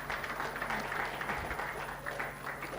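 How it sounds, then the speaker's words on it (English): An audience at a sales training event applauds steadily, a dense wash of clapping at moderate distance that holds its level throughout. "So my round of applause, please."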